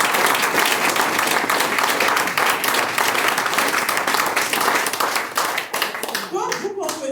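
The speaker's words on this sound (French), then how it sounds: "Il faut applaudir." An audience at an FLP Togo meeting claps loudly and densely throughout, with the applause thinning near the end as a voice begins speaking.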